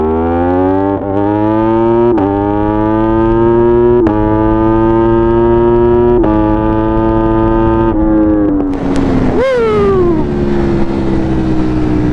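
A hyper naked motorcycle held to about 45 mph: a loud, steady engine drone rising in pitch through several quick gear changes, then dropping away as the bike slows near the end, with no talking.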